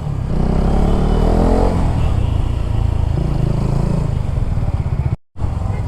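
Hero Karizma XMR 210cc motorcycle fitted with a new exhaust, engine droning loud and close as it pulls and accelerates, with a brief cutout near the end.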